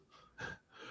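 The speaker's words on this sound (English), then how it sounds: "He's just always huffing and puffing" A wrestler breathes heavily through his mouth, with one sharp audible gasp in the middle and softer breaths before and after, close and alone.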